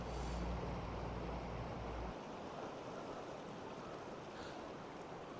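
River water rushing steadily past the old Granby River dam near Grand Forks, British Columbia, a broad continuous outdoor roar with a heavier low rumble in the first two seconds and no talk.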